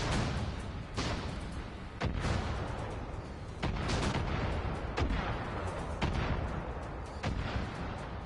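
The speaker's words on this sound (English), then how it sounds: "What are they even firing at?" Repeated gunfire from Far Cry 5 Arcade, sharp broadband shots cracking roughly once a second over a dense, continuous battle rumble, loud and sustained with no talk.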